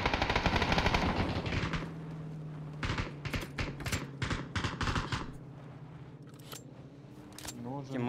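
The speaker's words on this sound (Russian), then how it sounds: "Стреляли." Bursts of gunfire in a Russian-language multiplayer shooter match, rapid automatic volleys loud at first and then broken into scattered sharp shots, heard alongside players talking.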